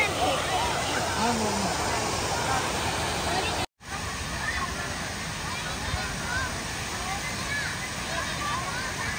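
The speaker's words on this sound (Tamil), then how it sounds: "அது அருவி தொப்பு தொப்புன்னு ஊத்துது." A waterfall pours down in a steady, loud rushing wash, close by, with a brief dropout partway through.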